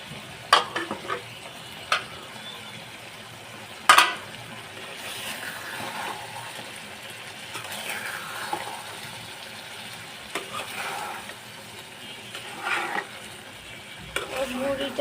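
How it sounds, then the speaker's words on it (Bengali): Beef tripe fries with green chillies in a pan, a soft steady sizzle broken by several sharp spatula scrapes and clinks as it is stirred at irregular intervals. "গরুর ভুঁড়িটাকে ভাজা ভাজা করে নিব তো এখানে কাঁচামরিচ দিয়ে দিচ্ছি"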